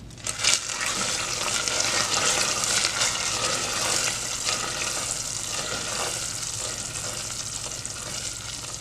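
Flavoring is stirred into a hot candy popcorn syrup, producing a continuous bubbling, sizzling hiss with faint scraping from the stirring, steady and close with no talk.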